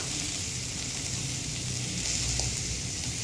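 A paste of ginger, cumin and green chili frying in a pan for a vegetarian elephant-foot yam curry, a steady, close sizzle with a soft, even crackle and no voices.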